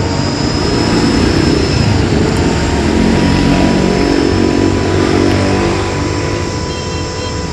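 A repaired wood planer machine runs steadily under load with a smooth, continuous motor drone and a faint high whine, holding an even level without sparking or stutters.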